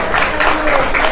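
An audience applauds students at a school quiz event, a short steady burst of clapping that fills the whole moment.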